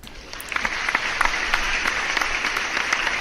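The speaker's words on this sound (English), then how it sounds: "Let me give you an applause." Applause sound effect played on a livestream, a dense, even burst of clapping with a few sharper claps standing out, fairly loud and without talk.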